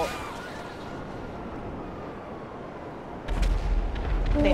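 A video game scene opens with steady low rumbling and whooshing, then rockets fire and burst partway through, punctuated by a run of loud booming explosions that continues to the end.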